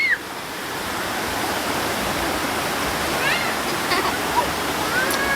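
Floodwater rushes in a steady, broadband roar close by, continuous throughout, with faint voices briefly audible over it.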